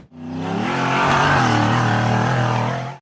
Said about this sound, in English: The red and silver-framed buggy accelerated hard up a steep dirt hill through the forest